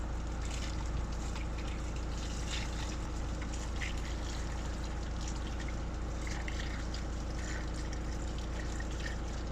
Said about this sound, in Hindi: गर्म पानी अभी मैंने डाला है